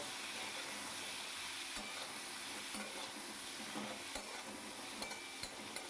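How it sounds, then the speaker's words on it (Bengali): Cauliflower with salt and turmeric frying in a pan for a Bengali vegetarian curry, a dense hissing sizzle close up with occasional spatula clicks and scrapes as it is stirred. "এটা দিয়ে আমি ভালো করে কপিটাকে নাড়িয়ে চাড়িয়ে সুন্দর করে ভেজে নেব"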